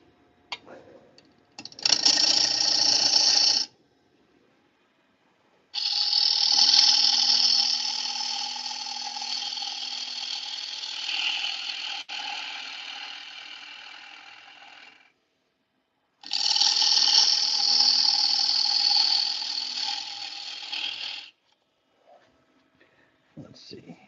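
Bowl turning on a wood lathe with an Easy Wood carbide tool, giving three sustained bursts of rough, hissing cutting noise separated by pauses, with a slightly coarse texture and no talk during the cuts.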